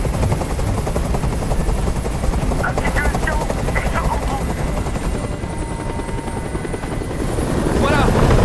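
A helicopter's rotor in the video game Detroit: Become Human thumps steadily and loudly throughout, with a voice talking over the heavy churning drone.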